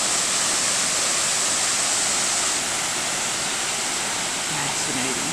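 Water falling and dripping at a waterfall in Natural Falls State Park, Oklahoma, a steady broadband rush heard close, with faint voices in the background near the end.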